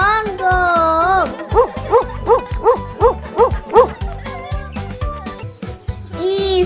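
A dog goes bow-wow in a quick run of about six short barks over a rhythmic musical backing, bright and close.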